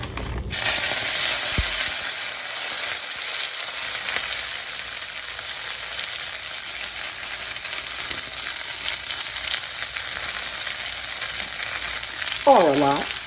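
Damp turnip greens hitting a hot pan, a loud steady sizzle and spitting splatter that runs continuously from start to finish, close up, with a faint brief voice near the end.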